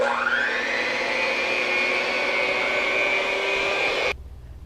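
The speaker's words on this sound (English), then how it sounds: "he's going to beat the egg whites until almost stiff" An electric mixer beats egg whites almost to stiff peaks for a Greek meatball soup, its steady loud whir running unbroken for about four seconds before cutting off abruptly.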